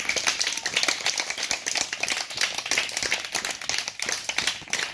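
Worshippers in a church clap loudly and continuously to acclaim the risen Jesus, a busy, even rush of many hands throughout.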